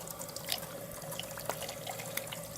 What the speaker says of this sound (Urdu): کوہنی تک اپنے ہاتھ کو دھونا ہے، پہلے داہنا ہاتھ اور پھر بایاں ہاتھ